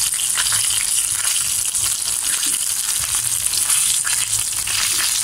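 Chicken pieces frying in oil in a home kitchen pan, a loud continuous sizzle with bubbling and crackling that holds steady with no talk.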